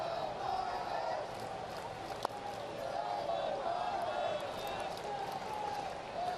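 Steady crowd murmur fills a baseball stadium on a Saturday night during a Marlins versus Pirates game, a continuous broad wash with one sharp brief crack near the middle, and broadcast commentary running over it.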